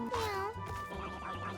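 Cats in the video game Mewgenics give a drawn-out, wavering meow up close, followed by softer mewing over a low background hum.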